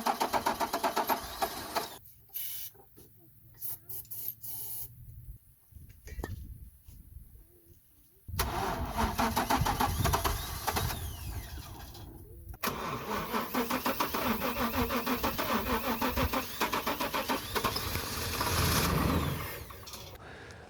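A pick-up truck engine cranking with starting fluid, kicking over briefly without catching, in bursts of loud mechanical churning broken by pauses, with birds chirping in the background.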